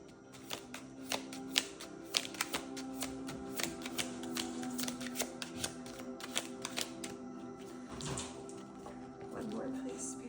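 Tarot cards shuffled by hand in a steady run of crisp riffling clicks and taps, close and fairly quiet, with a soft voice talking at moments between them.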